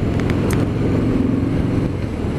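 A 2019 Harley-Davidson Sport Glide motorcycle engine pulls under acceleration on the road, a steady, loud, low rumbling drone close by with no talk over it.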